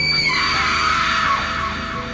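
A woman screams loudly and continuously in a horror story, a sustained, strained cry held at a steady level throughout.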